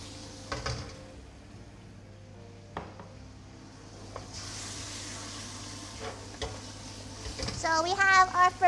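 Fermented soybean paste and garlic fry in a pan, a faint steady sizzle with occasional utensil clinks and scrapes, growing busier toward the end as voices and a child's speech come in.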